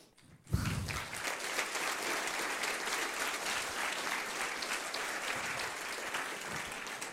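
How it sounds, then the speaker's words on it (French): Sudden burst of applause from a crowd, sustained dense clapping that holds steady for several seconds without talk. "Sous les applaudissements."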